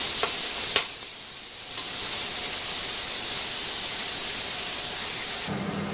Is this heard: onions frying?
yes